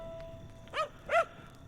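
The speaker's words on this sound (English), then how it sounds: "Yes, woof woof doggies, yeah." Dogs barking in the video game Hardland, two distinct barks about half a second apart over a steady ambient tone, moderately loud and clear.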